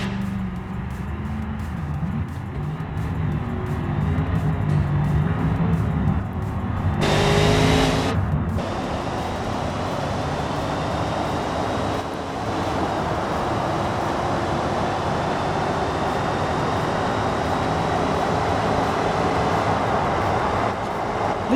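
A powerful bus in BeamNG.drive, coming off a ramp, drones with steady engine and road noise throughout, a louder rushing surge breaking in briefly near the middle.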